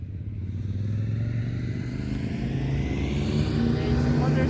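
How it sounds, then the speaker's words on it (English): A motorcycle draws near on a quiet rural road during an autumn nature outing in Luxembourg, its engine a steady low drone that swells gradually louder as it closes in, with no voices. "There's a motorcycle coming."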